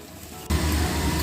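Spice paste dropped into hot oil with dried red chillies, whole cumin, bay leaves and whole garam masala for a thin catla fish curry with cauliflower; a sudden loud sizzle bursts in and holds as a steady, close hiss, no talking.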